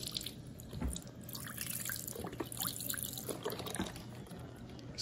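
Liquid poured into a crock pot ahead of a deer roast, a steady close splashing trickle that runs through the whole stretch with a few louder drips and clinks.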